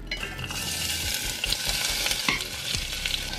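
Sliced red onions hit hot olive oil in a pan, a loud close continuous sizzle with stirring scrapes and a few utensil knocks, no one talking.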